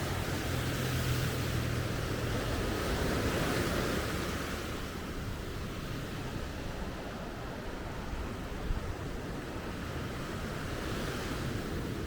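Surf washes steadily onto Kalim Bay beach in Phuket, a continuous broadband roar of breaking waves with a little wind noise on the microphone and no talk.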